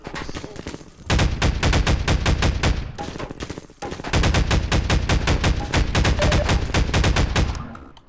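Automatic gunfire in the video game Half-Life 2 rattles loudly in long rapid bursts, with a short break between two sustained volleys, aimed at the player.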